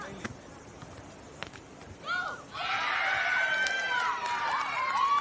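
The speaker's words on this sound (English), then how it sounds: "You'll be able to hear the cheering in the background as well" At a school beach volleyball championship, a crowd cheers from a neighbouring court, starting as a sudden swell of shouts and whistles that carries on loudly to the end after a few sharp thumps and quiet moments.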